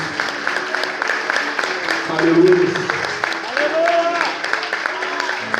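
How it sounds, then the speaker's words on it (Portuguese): Church congregation applauding throughout in a steady wash of clapping, heard beneath a preacher's raised voice calling out over the crowd. "Vamos aplaudir Glória o a Senhor."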